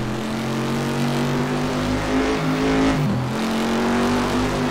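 Race car engines from a Monza sim racing session drone steadily and loudly with sustained revving tones, one pitch dipping and shifting around the three-second mark as a car passes by.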